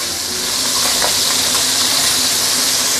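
Fish pan-frying on high heat, a loud, steady, close sizzle and hiss that runs unbroken throughout.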